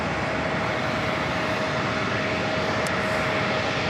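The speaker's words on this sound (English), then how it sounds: "It's a CRJ 900LR waiting to pull into one of the gates" A Delta Connection CRJ 900LR regional jet, arriving from Richmond, Virginia, idles at JFK while waiting to pull into a gate, giving a steady, broad engine roar with a thin whine held throughout, without voices.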